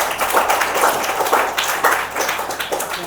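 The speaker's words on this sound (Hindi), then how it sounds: "सर के लिए जोरदार ताली दो।" Students at a civil defence mock drill session clap hard for their teacher, loud, close, uneven group applause that swells and dips over a few seconds with no talking on top.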